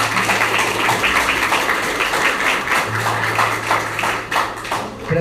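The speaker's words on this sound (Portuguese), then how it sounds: "Vamos aplaudir a palavra de Deus" Church congregation applauding the word of God during a sermon, steady dense clapping from many hands, close and continuous with a low hum underneath.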